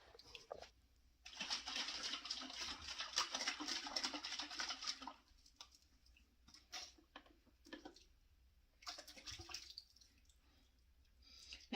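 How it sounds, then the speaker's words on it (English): Water mixed with a little ketchup poured into dry baked beans in a crockpot, a soft splashing, trickling pour lasting a few seconds, followed by scattered quieter wet drips and squishes, all fairly faint and close. "Now I've added in about 1/4 cup of water that was mixed with a little bit of ketchup."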